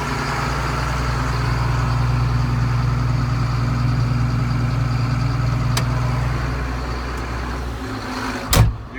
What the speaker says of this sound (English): you push in the clutch and the brake, and you take it up forward, put in your front gears, release the brakes, and then slowly release the clutch